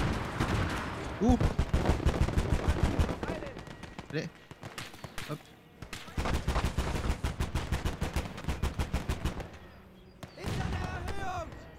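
Rapid bursts of small-arms and machine-gun fire in the Gates of Hell video game, set in a German campaign battle for a hill at Saint-Lô, with dense staccato volleys in waves, broken by short lulls.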